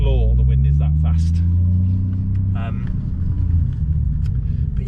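Strong wind gusting outdoors at roughly 50-60 mph, whipping spray off the ground, makes a loud, constant low roar and buffeting rumble, with a voice talking over it throughout.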